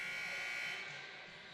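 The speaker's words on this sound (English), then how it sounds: "the clock ticks down and the buzzer gets set to go off here" A basketball game clock buzzer sounds at a college men's game, a loud steady electronic tone held for most of a second before cutting off into arena noise.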